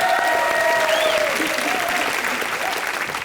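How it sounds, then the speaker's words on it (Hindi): Studio audience on a Hindi TV comedy show breaking into loud, steady applause, close and continuous throughout, with a few faint voices or cheers mixed in. "जोरदार तालियां करिश्मा के लिए भी।"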